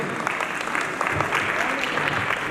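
An audience at a Lions Club charter night celebration claps in a dense burst of applause that continues steadily for a couple of seconds, fairly close and lively.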